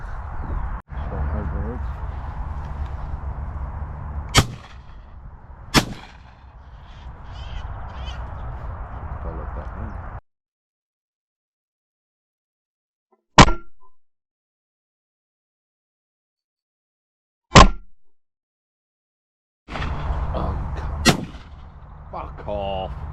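Shotgun blasts at crows and pigeons in the UK countryside: a few sharp, loud, separate reports over steady wind and background noise, with quiet gaps between some shots and people talking in places.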